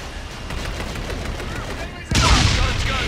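Strafing gun run from an aircraft in the Call of Duty Infinite Warfare game, a loud sustained burst of rapid fire that surges sharply louder near the end, with a radio voice talking underneath.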